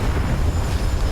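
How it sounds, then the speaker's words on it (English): A short, heavy low rumble of an explosion in the war game War Thunder, a brief dense boom with no voices over it. "I get to watch all the explosions up close"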